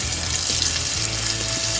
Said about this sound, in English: Frying stuff in grease can result in burns.